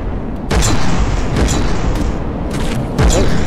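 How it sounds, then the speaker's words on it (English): Underwater torpedo blasts in the naval combat game From the Depths, a few loud booming hits at intervals over a continuous rumbling battle din, no talking. "I can hear torpedoes"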